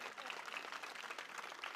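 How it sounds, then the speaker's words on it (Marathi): Crowd at a Marathi political election rally claps together in a faint, distant burst of steady, dense applause lasting the whole moment. "होऊन द्या टाळ्या जोरात"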